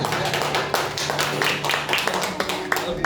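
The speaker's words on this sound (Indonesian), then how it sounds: "Tepuk tangan dong." A church congregation claps along after a sermon, a dense patter of many hands at moderate distance, with some voices mixed in underneath.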